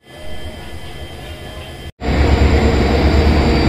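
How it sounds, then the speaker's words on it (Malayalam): At Mangalore railway station a train makes a steady rumble that grows much louder partway through. The noise is broad and continuous, with no talk over it. "അപ്പോൾ വണ്ടി വന്നിട്ടുണ്ട്"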